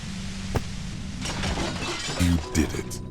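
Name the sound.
compressor machine smashed, from video game Disco Elysium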